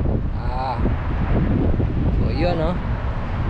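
Strong wind gusts across a small boat at sea, buffeting the microphone in a steady rushing roar while someone talks over it.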